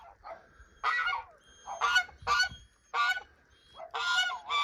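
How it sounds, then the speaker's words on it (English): Goose honks out in a snowy California yard: five or six loud, harsh honks in irregular bursts, close by, with short quiet gaps between them. "Oh, the goose likes it."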